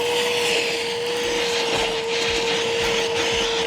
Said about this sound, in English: And it is just picking up this debris like nobody's business.